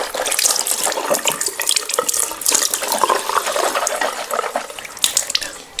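Tap water runs steadily into a sink while the mouth is rinsed during wudu ablution, a continuous close splashing hiss with small shifts as hands move through the stream.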